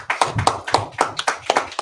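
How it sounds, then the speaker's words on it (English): Congregation clapping in unison at a Sabbath service, steady rhythmic claps roughly four per second, close and loud, with a faint voice underneath. "Clap it up for the brothers."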